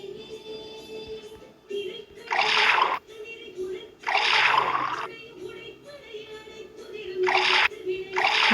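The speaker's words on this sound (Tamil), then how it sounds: "இதுக்கு வந்து ப்ளூ ஊற்றிடலாம்" Blue liquid poured in a colour-sorting video game, bursts of splashy pouring effects over a continuous tonal game background, with a voice talking in between.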